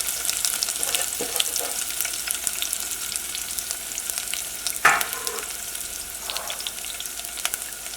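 Thinly sliced onion frying in hot spiced oil for a Kerala chicken biryani: a continuous close sizzle with stirring scrapes and one sharper clatter midway.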